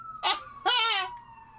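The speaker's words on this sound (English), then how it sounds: "they fire up the sirens" Emergency vehicle sirens outside an open window, two brief loud wailing blasts with a fainter steady tone fading beneath them.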